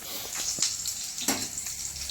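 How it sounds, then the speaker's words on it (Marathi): Okra goes into hot oil in a kadhai and crackles with an uneven close sizzle, with a few sharper spits and pops and no speech. "तर मी आता भेंडी टाकून घेते."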